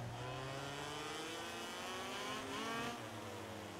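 Engine of a racing motorcycle in the MotoGP 18 video game, a steady high-pitched drone that dips and climbs again as the bike re-accelerates, loud and continuous with no talk.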